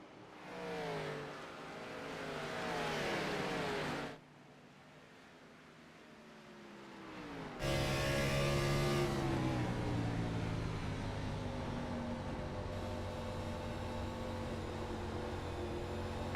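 Race cars in the iRacing Xfinity Series sim at New Hampshire Motor Speedway, with engines droning and pitch sweeping through shifts, a brief lull, then a loud sustained roar as the pack runs on together.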